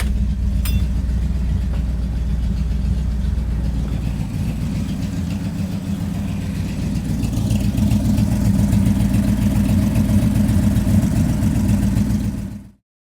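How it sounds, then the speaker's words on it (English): A 1934 Ford car engine idles up close, a loud, steady low rumble with an even mechanical pulse running unbroken for about twelve seconds before cutting off abruptly. "I'm gonna leave the car running for a minute, let it idle"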